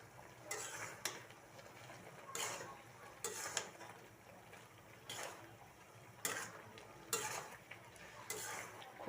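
Olive pickle being stirred in a pot, the olives already boiled: repeated scraping and stirring strokes in irregular bursts over a soft background, fairly faint and close, with no talking.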